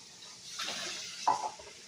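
Water is poured into a pot of cauliflower soup in a brief, splashy gush lasting about a second, fairly close and with no talking.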